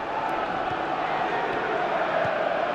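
Football crowd at St James's Park during Newcastle United against Nottingham Forest, a steady, distant roar of massed voices that holds evenly throughout without clear peaks.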